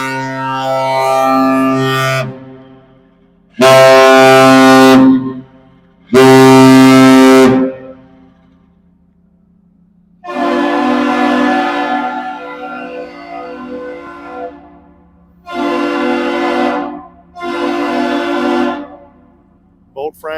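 The deep, loud ship whistle of the Oberstar leaving icy Duluth harbor sounds in a series of long and short blasts separated by pauses, resonant and rich in harmonics, echoing across the water.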